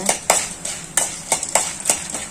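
A spoon scraping and clinking through dried ingredients being dry roasted in a pan, about seven sharp, evenly spaced strokes in quick succession, close and fairly loud with no talking.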